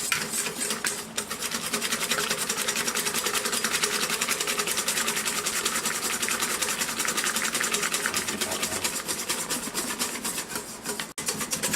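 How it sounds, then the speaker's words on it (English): A hand whisk beats cold cream for cinnamon whipped cream in a bowl. It makes a fast, steady, scratchy rhythmic swishing that continues evenly for the whole stretch at a modest level. "whisking for probably 30 seconds now, and as you can see the ribbons are already starting in the cream"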